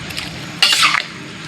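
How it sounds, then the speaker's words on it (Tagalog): Mixed vegetables including celery stir-fried in a pan for pancit canton bihon, a short loud burst of scraping and sizzling from a spatula moving through the pan, with quieter frying before it. "So lutuin lang natin ang ating gulay konti."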